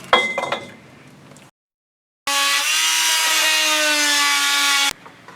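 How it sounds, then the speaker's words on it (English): An oscillating saw cuts through wood against the frame of a boat hull, giving a loud, steady buzzing whine for a few seconds after a short pause, preceded by faint knocks and handling sounds. "use the oscillating saw to cut through the wood against the frame"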